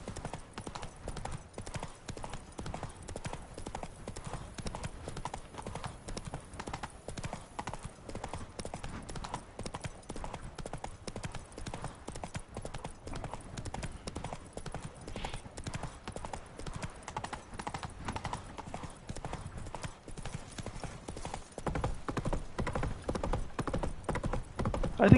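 Horse hooves from the video game The Witcher 3 clip-clop in a steady, continuous galloping rhythm at close range, running throughout with a brief whinny-like touch and growing slightly louder near the end.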